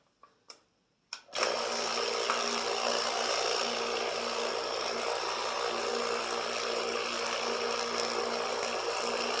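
A Lot-O rock tumbler runs with an added dowel. It gives a continuous, even mechanical whir and rumble after a few short clicks and bumps at the start.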